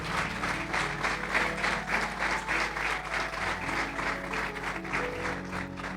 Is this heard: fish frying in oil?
no